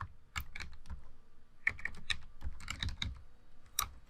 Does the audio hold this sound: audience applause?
no